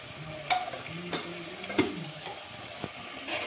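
Carrot halwa cooked with ghee in a pan gets stirred with a spoon, giving soft scraping strokes and several sharp clicks against the pan over a faint, low sizzle.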